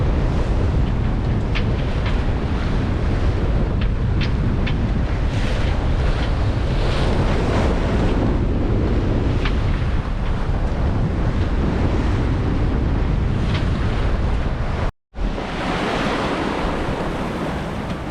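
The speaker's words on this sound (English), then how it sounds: "There are some waves." Ocean waves rush and hiss around a sailboat running between Guadeloupe and Antigua under windvane steering, with steady wind buffeting the microphone, continuous and loud, with a brief dropout near the end.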